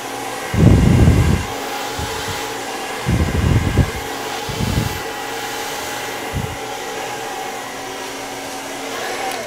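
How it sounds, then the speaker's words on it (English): A hair dryer blows out a layered bob haircut in a salon, its loud whooshing airflow rising and falling in several short bursts over a steady background hum. "as I'm blow drying it, I'm creating the shape"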